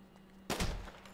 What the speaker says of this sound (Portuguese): Você tá dando tiro dentro da casa.